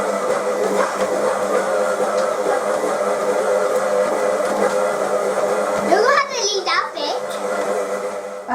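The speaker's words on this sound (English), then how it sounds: "we've blended our wet ingredients" A blender whirs steadily as it mixes wet ingredients with butter and treacle (molasses), a loud, continuous motor drone with a brief shift in pitch and a voice near the end.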